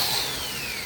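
A power drill whirs steadily at a high pitch for under a second, a continuous motor whine with a slight falling tone and no voices.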